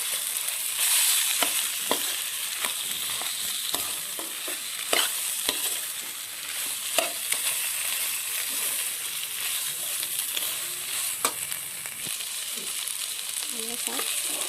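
Fish heads frying with eggplant in a pan, a steady sizzle broken by repeated scraping stirs and clinks of a utensil, close and fairly quiet with no talking.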